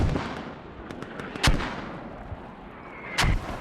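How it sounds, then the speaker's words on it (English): Mortar fire in a tactical shooter match: distant booming thuds and cracks over constant rumbling battle noise, with a couple of louder impacts standing out. "So here comes some more mortars."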